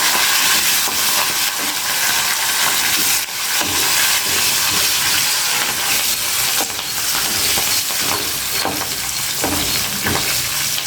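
A tempering of turmeric and asafoetida sizzles and fries in a pan for vermicelli mango pulihora, a loud, steady, close hiss with occasional stirring scrapes throughout.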